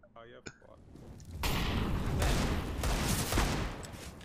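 Counter-Strike match with sustained gunfire: a dense burst of shots begins after a brief voice and keeps up loud and steady, with several sharper individual reports standing out.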